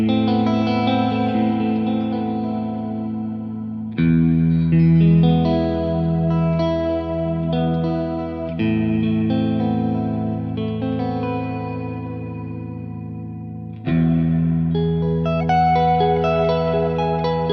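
Electric guitar through a VHT D-20 amp with Strymon stereo wet effects, sustained chords washed in chorus and reverb, with fresh strums near four, nine and fourteen seconds ringing out and fading, alone without talk.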